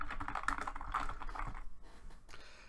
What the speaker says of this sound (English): you want to type in Windows features